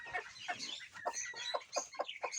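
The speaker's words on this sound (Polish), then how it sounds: "O, i tu siedzi kwoka." A broody hen sitting on eggs in an aviary gives a run of soft, close, rhythmic clucks.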